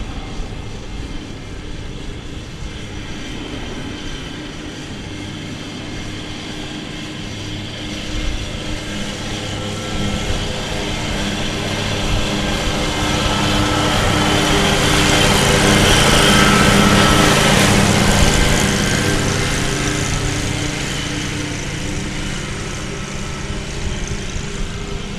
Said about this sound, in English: So here is an Airbus A319.